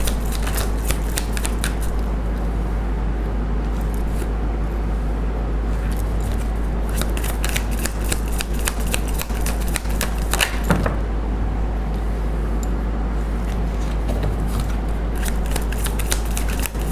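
Tarot cards being shuffled over and over by hand, a dense crisp riffle of flicking cards with a low steady hum behind, close and continuous.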